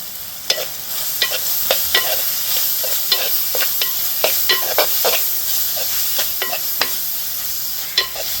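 Two tomatoes sauté in vinegar and oil in a pan for a fish curry, a soft constant sizzle punctuated by repeated crisp scrapes and taps of a spoon stirring, close up, no voices.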